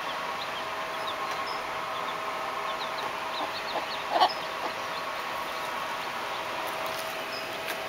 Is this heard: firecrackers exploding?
no